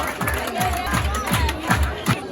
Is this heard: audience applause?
yes